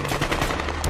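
Gunfire in the film Black Hawk Down, a loud, dense, continuous rattle of automatic weapons over one second, with no talking.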